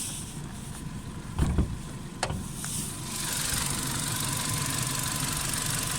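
Car engine idling with a hydraulic lifter knock, a low, steady running hum with faint ticking and a few brief thuds early on, recorded close and fairly quiet.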